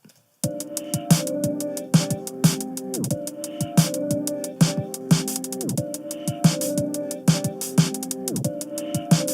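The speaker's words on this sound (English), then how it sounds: "it's letting through that snare drum now" Tight, gated trap snare hits, built from scratch, cutting off sharply, repeating in a steady trap-style beat alongside a sparse drum loop.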